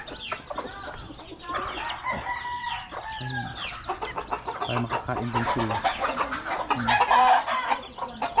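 Several chickens cluck and squawk nearby in a busy, overlapping chorus while a person speaks briefly over them.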